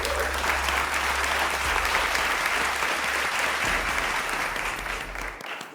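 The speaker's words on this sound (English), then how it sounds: "give our judges a round of applause as they exit the stage" Studio audience applause at a cooking competition show as the judges leave the stage, steady and loud clapping that tapers off at the end, with a low music bed beneath.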